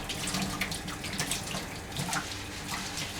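Tap water runs steadily into a sink while a juicer is washed, a continuous close splashing rush with small spattering variations and no voices.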